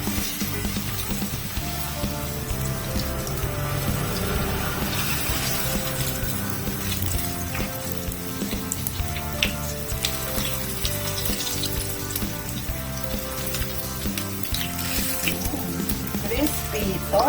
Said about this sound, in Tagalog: Prito muna natin.